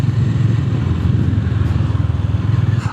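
A Honda GB 350 S street motorcycle rides along, its single-cylinder engine thumping in a steady, close, loud pulsing rhythm with a low rumble throughout.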